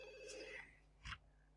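A telephone rings inside a Sims 2 household, giving a single short electronic ring burst that stands out briefly over a quiet background hum.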